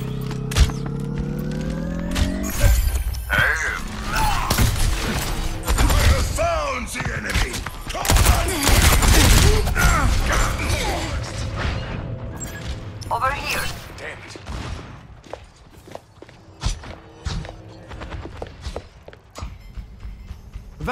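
Gunfire in a multiplayer shooter match, dense bursts of shots, impacts and thuds packed loudly together, then thinning into scattered bangs and clanks, with in-game voices over the action.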